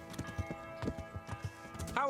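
Horse hooves clip-clop in a steady walking rhythm in Kingdom Come: Deliverance, close and fairly loud, with a voice talking over the steps.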